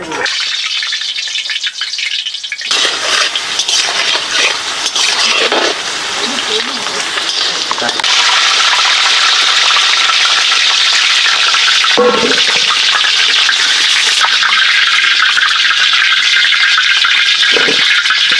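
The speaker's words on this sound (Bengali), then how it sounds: "আজকে সরষের তেলে রান্না, আলু ভাজা হবে, তেলটা দিয়ে দেওয়া হচ্ছে।" Mustard oil poured into a pan for frying potatoes, a steady broadband hiss and sizzle that starts abruptly and then holds loud and constant, close by, with brief speech-like breaks.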